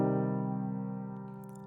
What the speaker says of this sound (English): I'm going to grab my dark tone piano.